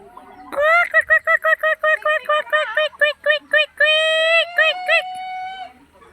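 A person mimics poultry with a rapid string of short, bright, voiced clucks and quacks, close and loud, ending in a drawn-out call.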